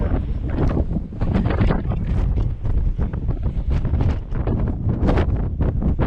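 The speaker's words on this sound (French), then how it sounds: "Il y a énormément de vent, mais c'est pas grave." Loud, steady wind buffeting the microphone at a US national park viewpoint, roaring continuously with gusty bursts throughout, no voices.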